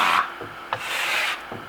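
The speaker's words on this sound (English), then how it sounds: "Actually, maybe we can start to burnish it first." A trowel burnishes Venetian marmorino plaster on a wall in a few short, close scraping and rubbing strokes with a dry, rasping texture.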